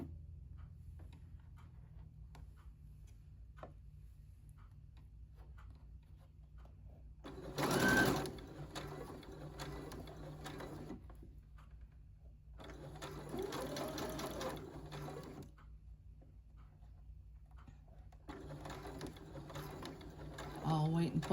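A regular home sewing machine stitches a t-shirt neckline in three short bursts, each a few seconds long. The whirring is close, with quiet gaps and faint handling noise between runs.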